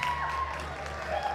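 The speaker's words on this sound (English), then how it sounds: "Give them a big round of applause" Brief, steady applause from an audience welcoming guests on a health and fitness panel, a close, even patter of clapping that lasts the whole moment.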